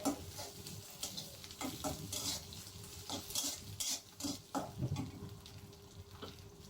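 Chicken frying in a pan with egg for chow mein, stirred now and then. A fairly faint, crackling sizzle is broken by repeated scraping stir strokes, with no voices.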